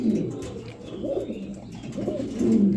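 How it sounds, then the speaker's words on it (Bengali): Several soft, rolling coos from a pair of young Lahori pigeons repeat at a steady pace nearby, with no talking, just low murmuring bird calls overlapping one another. "এখানে দেখতে পাচ্ছেন আরেক জোড়া লাহোরি বেবি কবুতর"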